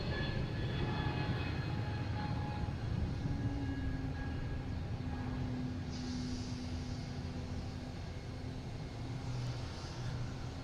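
JetBlue jet climbing away after takeoff from Boston Logan, a distant broad rumble with a rising engine whine, steady and moderately faint.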